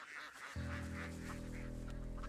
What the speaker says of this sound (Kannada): ಬಾತುಕೋಳಿಗಳು